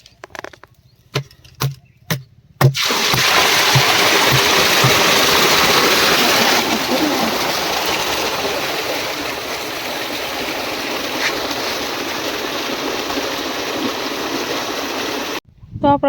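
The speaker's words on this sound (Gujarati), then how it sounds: "આપણે પાણી ચાલુ કરી દીધું છે" Water gushes steadily after a valve is opened to fill a tank, a loud, continuous rushing flow that starts abruptly after a few faint knocks and runs unbroken before cutting off at the end.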